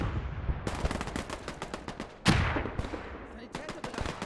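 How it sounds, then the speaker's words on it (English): Mortar and machine-gun fire in the WWII Eastern Front game Call to Arms: Gates of Hell, a dense crackle of gunfire with a loud blast near the middle, a voice speaking over it. "Ah, there's the mortar."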